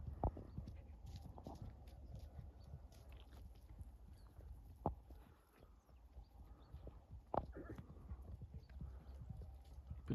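Draft horses, mares with foals, clop and shuffle their hooves in a field at a distance, with a steady low rumble and occasional sharper knocks and snorts, all faint.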